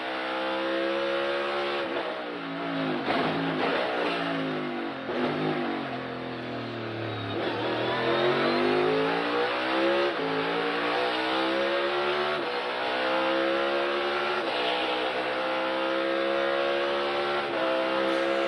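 An onboard NASCAR race car at practice for the 2022 Toyota/Save Mart 350 roars loudly and close, the engine climbing and falling through gears as it revs hard, downshifts and accelerates through turns over a lap, with no talking.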